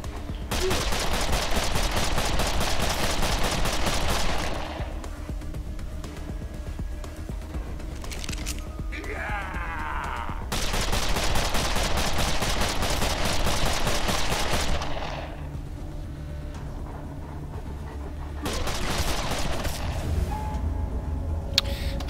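Bursts of rapid automatic gunfire in the video game Wasteland 2 crackle loudly in long stretches, separated by brief quieter pauses with distant shots.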